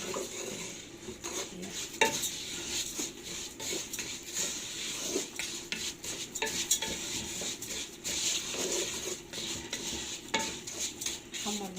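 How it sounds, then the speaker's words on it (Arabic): Orzo pasta being fried and stirred in a pan, with steady scraping and clinking of a utensil against the pan and a soft sizzle underneath, continuous and close. "نحمر بقى لسان العصفور،"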